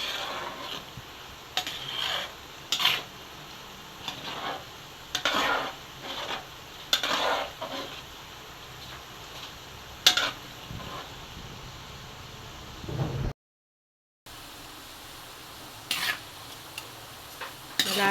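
Crispy oyster mushrooms frying in a pan, with a soft continuous sizzle broken by intermittent scraping and stirring clinks of a utensil, and no talking.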